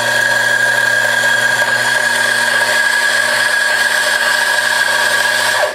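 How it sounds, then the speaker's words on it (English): Mazzer Super Jolly coffee grinder running with its burrs set very close for a fine grind, a steady loud mechanical whir with a high whine held throughout, stopping abruptly at the end. "So that whir there was them getting super close together, the burrs."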